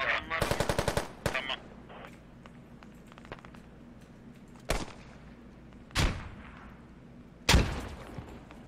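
A competitive shooter match opens with a rapid, close burst of automatic gunfire, followed by a few loud single shots spread across a quieter background.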